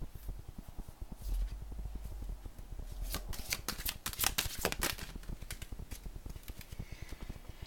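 Oracle cards being shuffled by hand, a close run of rapid riffling flutters and soft slaps in quick bursts, alone without talk.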